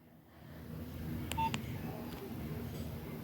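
Two quick keypad beeps from a Nokia 3510i mobile phone sound over a low background hum, followed by a couple of fainter tones.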